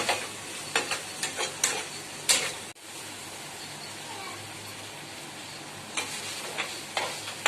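Mutton chukka being stirred with masala, onion and curry leaves in a pan: soft scraping strokes in intermittent clusters over a steady low sizzle, close and moderately quiet, with a gap in the middle.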